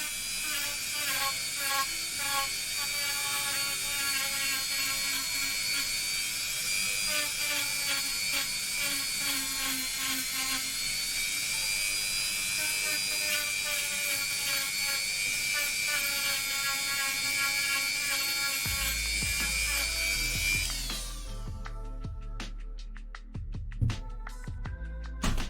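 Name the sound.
Dremel rotary tool running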